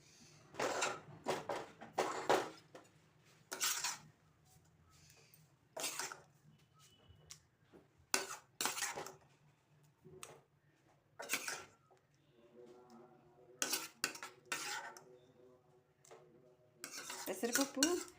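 A cooked moong dal dish is served out with metal utensils: scattered sharp clinks and scrapes of spoon against pot and plate, in irregular bursts over a quiet kitchen background.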